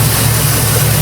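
A Jeep with a newly installed 4.7 H.O V8 runs with a misfire, giving a loud, steady low rumble with a slightly uneven pulse, up close and without talk.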